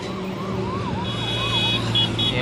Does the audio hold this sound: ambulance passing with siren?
yes